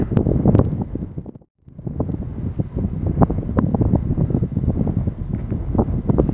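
Strong wind buffets the microphone in loud, rumbling gusts that drop out briefly, then roar back steadily.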